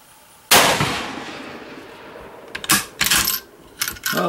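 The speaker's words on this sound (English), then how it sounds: "I love shooting this little 222." One sharp crack from a small .222 rifle rings out and trails off in a long echo, followed by a few quicker metallic clacks and knocks from handling the gun.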